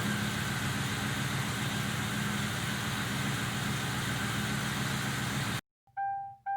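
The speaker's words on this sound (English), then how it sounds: "so you can hear the engine running" A 2001 Ford Crown Victoria LX engine idles steadily with a low, even rumble from a throaty exhaust, then cuts off abruptly, followed by a few electronic chimes.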